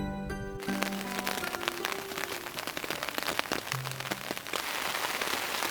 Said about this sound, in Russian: дождик прогнал меня с улицы